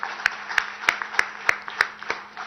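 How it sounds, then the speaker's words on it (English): Rhythmic audience clapping in unison at a public event, regular sharp claps roughly every third of a second over a murmuring crowd, moderately faint and somewhat distant. "I think you deserve a much, much bigger round of applause than anybody else"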